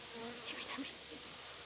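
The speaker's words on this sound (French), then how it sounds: "Abeille." Honeybees buzzing around a hive during a beekeeper's apiary visit, a close, wavering insect hum with a few nearer passes of individual bees.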